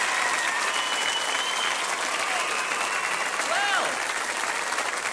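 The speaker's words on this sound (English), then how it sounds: "I'll give you a big round of applause" Studio audience applause at a British Saturday night TV variety show: dense, steady clapping from a large crowd that fills the whole stretch at even loudness, with faint voices underneath.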